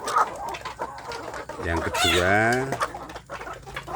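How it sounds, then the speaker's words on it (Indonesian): Free-range village rooster gives a loud, rising crow-like call close by, with someone speaking briefly before it and soft farmyard background throughout. "Ini melihat jago yang bagus."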